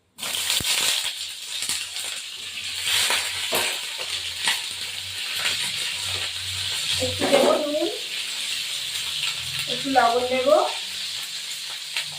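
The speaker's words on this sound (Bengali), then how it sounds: "এবার কপিটাকে ভাজতে হবে" Cauliflower fries in hot fish oil in a pan, with steady close sizzling throughout, broken by a few clinks of a utensil stirring and scraping. Two short vocal sounds cut in near the end.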